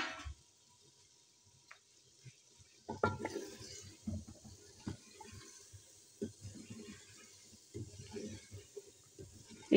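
Chicken frying and being stirred in a pot with chopped green chillies, a soft sizzle under repeated scraping and clanking stirs, close and moderately loud.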